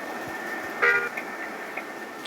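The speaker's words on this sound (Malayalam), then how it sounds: "രാത്രി ഹോൺ അടിക്കല്ലേ" A single short car horn toot sounds at moderate distance at night over a low road and engine hum, followed by faint traffic noise.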